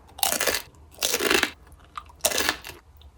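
Three loud, close bursts of crunching as a crisp Canadian snack bar made with pumpkin seeds, almonds and raisins is bitten and chewed, with short quiet pauses between bites.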